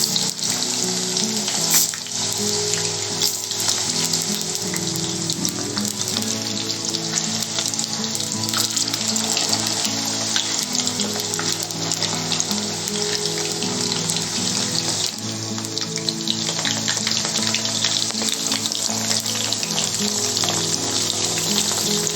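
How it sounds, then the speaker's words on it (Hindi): Potatoes deep-fry in oil over medium gas for a dum aloo dish, producing a loud, unbroken bubbling hiss that holds steady throughout, with no talking. "मीडियम गैस पर ही डीप फ्राई करेंगे इनको गोल्डन ब्राउन होने तक।"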